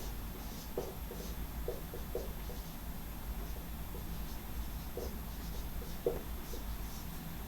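Chalk or marker strokes scratch and tap on a lecture-room board in a quiet, irregular series of short rubbing marks, faint and close, with no one speaking.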